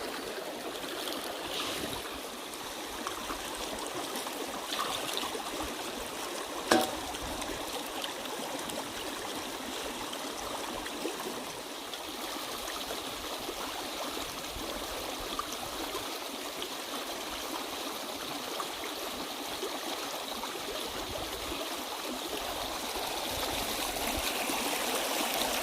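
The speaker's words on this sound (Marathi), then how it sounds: "मस्त इथं पाणी चालू आहे बघा. विहिरीच्याच बाजूला आहे" Water runs steadily beside a well in an open farm field, a continuous close rushing and trickling flow that holds even throughout, with no talking over it.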